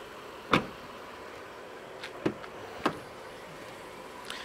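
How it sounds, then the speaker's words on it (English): Electric folding door mirrors on a Jaguar F-PACE S SUV moving, a few short separate motor whirs and clicks spread over several seconds in a quiet car, no talk. "electric and folding mirrors"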